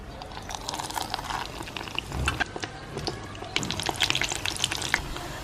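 Cabbage rolls dipped in batter deep frying in hot oil, a steady dense sizzle with crackling pops throughout, close and moderately loud, with no talking.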